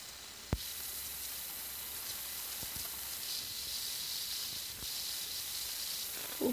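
Water added to a hot pan of potato pulao, giving a steady close sizzling hiss while the mixture is stirred, with a few soft knocks of the utensil against the pan.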